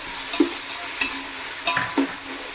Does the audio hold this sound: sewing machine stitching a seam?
no